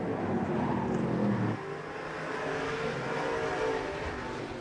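Stock cars racing at Interstate Speedway, a dense loud roar of several engines running together, the pitch shifting as the pack passes, continuous and without talk.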